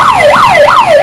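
A loud, close fire truck siren at a bus fire wails up and down in a fast, repeating sweep, about three cycles in just over a second.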